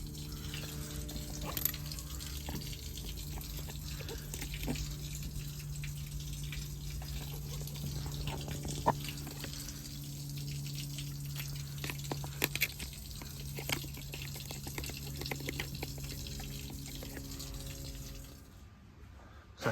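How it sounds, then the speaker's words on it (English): Water running and trickling steadily through the holes of an ACO drainage channel outdoors, a continuous close wash with small splashes and drips, fading out near the end. "I can see the water running through it."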